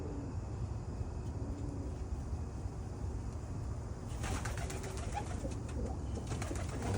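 Pigeons coo softly outdoors around a backyard bird trap where hawks have been chasing the flock, the low cooing steady under a constant background hum.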